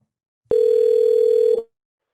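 A single steady electronic telephone ringback tone sounds for about a second, clean and loud, then cuts off into silence.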